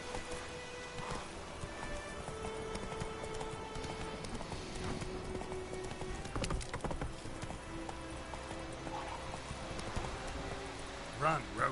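Roach the horse gallops in The Witcher 3 with rapid, rhythmic hoofbeats clopping over ambient rustle, while a voice speaks intermittently over the running.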